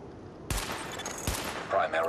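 Weapon test gunfire in Tom Clancy's The Division: two sharp, loud shots about a second apart, each with a ringing tail, followed by a brief tonal game sound.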